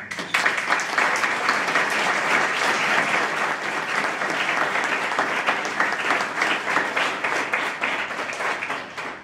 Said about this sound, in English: all the survivors, deserve a round of applause, and I'd like to pause for a moment and just give them one